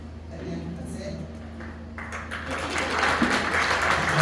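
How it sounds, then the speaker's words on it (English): Audience applause after a talk at a crypto conference, swelling from scattered claps into fuller, louder clapping across the room, with a low hum and some background murmur underneath. "I didn't even have to ask for applause."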